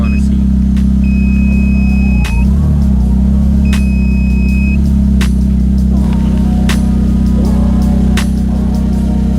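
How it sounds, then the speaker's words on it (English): A Volkswagen Jetta engine with a GT28R turbo idles with a deep, steady rumble, with a few brief rises in pitch as it revs, plus occasional clicks and a faint tonal whine. "The car is running pretty good right now."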